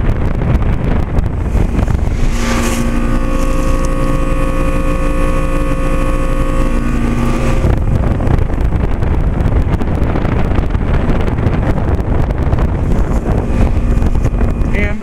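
A 2011 Trane XL20i 3-ton heat pump runs in heat mode on a cold day in the 30s, a loud steady fan and compressor drone with a humming tonal whine for several seconds, roughened by wind buffeting the microphone.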